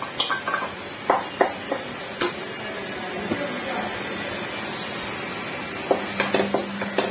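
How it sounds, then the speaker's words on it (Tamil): Ginger garlic paste sautéing in a pan of fried aromatics for chicken biryani, a steady close sizzle broken by scattered sharp clinks of a spoon stirring against the pan. "சேர்க்கிறேன். நல்லா வதக்கிடலாம்."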